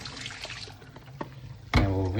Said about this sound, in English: it is okay to pour it down the sink